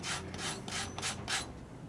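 A dirty rag is rubbed repeatedly across a 1988 Harley-Davidson FXR engine to wipe away grit, giving about five soft, close rasping strokes in a steady back-and-forth rhythm.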